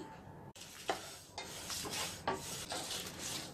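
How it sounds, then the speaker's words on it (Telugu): Cumin, dried red chilli pieces and sesame seeds dry-roasting in a pan on the stove, a faint close crackle with several spatula scrapes and stirs, no talk. "ముందుగా స్టవ్ మీద ప్యాన్ పెట్టుకొని జీలకర్ర, ఎండుమిరపకాయ ముక్కలు, నువ్వులను వేసుకొని వేయించుకోవాలి"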